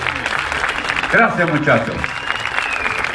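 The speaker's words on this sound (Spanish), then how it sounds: "Fuerte aplauso para ellos." An audience at a Latin American folk dance gathering applauds the dance couples, a continuous bed of clapping running beneath someone speaking over it.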